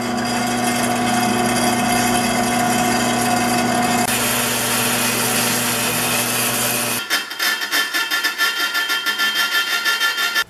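A power drill bores through a compost barrel being made into a tumbler: a loud, close motor whine that shifts pitch midway, then breaks into rhythmic, rasping grinding pulses as the bit chews through.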